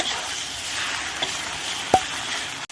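Pad see ew stir-frying in a hot pan as sugar and sauce go in, a steady broadband sizzle throughout with a brief sharper clatter of a utensil near the end, no voices.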